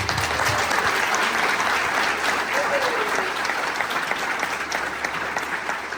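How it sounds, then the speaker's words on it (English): Audience applause for honorees at a school district Teacher of the Year celebration, a steady dense clapping that fills the room throughout without letting up. "can we have one big round of applause for all of our honorees tonight?"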